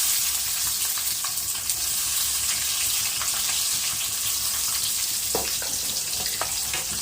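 Green chillies and onions sizzle steadily in hot oil, a loud, continuous crackling hiss with scattered pops that carries on unbroken throughout.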